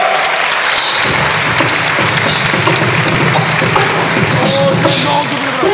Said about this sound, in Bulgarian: бурни аплодисменти за световните шампиони по битбокс, Печенката и Стиор